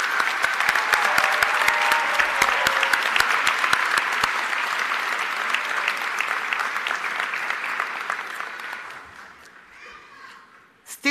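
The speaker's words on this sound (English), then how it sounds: "Parents and guests, please join me in giving this wonderful and special class a round of applause." Audience applause at a 2021 high school graduation ceremony for the graduating class: sustained, dense clapping from a large crowd that stays steady for about nine seconds, then thins out and fades near the end.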